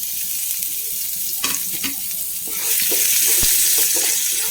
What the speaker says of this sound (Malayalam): റൈസ് ബ്രാൻ ഓയിലാണ് ഒഴിച്ച് കൊടുത്തിട്ടുള്ളത് കുറച്ച് ഒരു മൂന്നാല് അല്ലി വെളുത്തുള്ളി ചെറുതായി അരിഞ്ഞെടുത്ത് കൊടുക്കാം